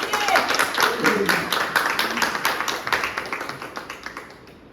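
Audience at a Toastmasters meeting applauding as a speaker takes the stage: brisk, close clapping from a modest group that keeps a steady patter, then thins to a few separate claps as it fades.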